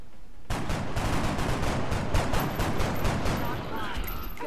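Sustained gunfire from squad soldiers in XCOM: Enemy Within, a dense stream of rapid shots starting abruptly and rattling on without pause at moderate loudness, with a thin high whine appearing in the background.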